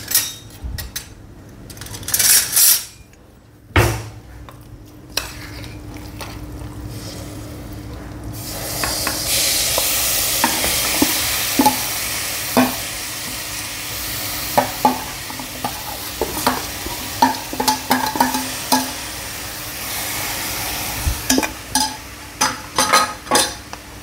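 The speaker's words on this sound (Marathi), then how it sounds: "आता ह्याच्यात सर्वप्रथम मी मटण टाकते" Marinated mutton dropped into a hot pressure cooker on a gas stove, first some clanks of utensil on metal, then a steady loud sizzle and hiss for the rest, broken by repeated scraping stirs.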